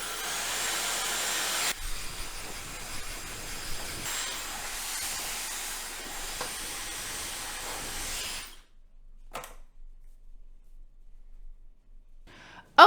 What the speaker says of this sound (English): I'm using my Dyson Supersonic